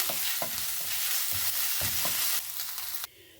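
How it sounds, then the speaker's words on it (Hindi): Steady sizzling of cumin seeds frying in hot oil, with a few soft stirring knocks, close up; the sizzle drops away near the end. "जीरे को हम हल्का सा भून लेंगे"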